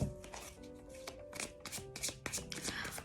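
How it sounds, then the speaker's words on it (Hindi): Tarot cards being shuffled by hand close up, a quick run of soft riffling flaps and snaps over about three seconds, with no one talking. "जब तक मैं कार्ड्स शफल कर रही हूँ आप अपने पर्सन के बारे में सोचिए"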